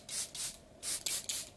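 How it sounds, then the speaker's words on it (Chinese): Charlotte Tilbury Hollywood makeup setting spray hisses out in about five short, close spritzes, two then three in quick succession, alone with no talking. "为了持久一些，定妆喷雾用一下 Charlotte Tilbury 的 Hollywood"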